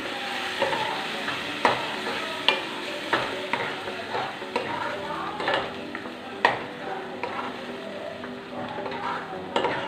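Ground tomato sautéing in a pan for Mysore pepper rasam, a steady close sizzle broken by repeated sharp scrapes and taps of a spoon stirring against the metal.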